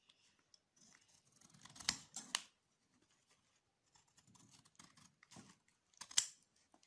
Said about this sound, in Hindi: सबसे पहले हम एक कैंची को ले लेते हैं और इसको कट कर लेते हैं इधर से